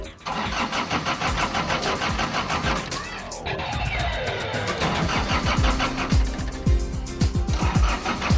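A car engine cranks and catches, then settles into a loud, rough idle with uneven pulsing revs, heard up close while a person speaks over it.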